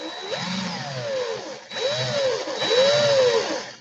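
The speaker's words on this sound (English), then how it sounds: "Could put it back into the drill." A power drill whines steadily in three bursts while twisting wire for wire art, its motor pitch rising and falling with each run, close and fairly loud.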